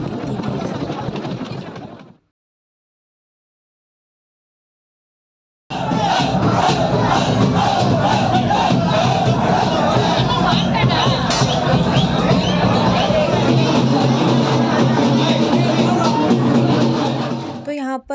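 Dense crowd noise at a village festival with a goddess procession, loud and continuous with shouting voices, broken by a few seconds of silence before the roar resumes.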